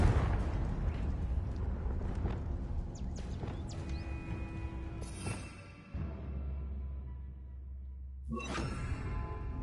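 A fiery Confringo blast spell goes off in a Hogwarts Legacy battle, a loud rumbling burst with whooshing debris that fades, then a second sharp burst near the end.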